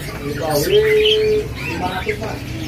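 A citohi songbird sings a clear, drawn-out whistle followed by shorter chirps, close by, with faint background noise.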